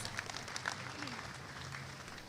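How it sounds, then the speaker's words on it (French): Audience at a testimony event applauding faintly in a brief spatter of claps, with voices speaking over it. "applaudissons pour Jésus-Christ"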